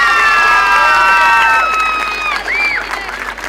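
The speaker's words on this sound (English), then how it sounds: "Give the Hotel Kilmore a big round of applause" Crowd at a 2006 intermediate hurling final replay, Drumalee versus Ballinagh, applauding and cheering loudly, with shrill whistles and high-pitched shouts over steady clapping, close and energetic, then easing slightly toward the end.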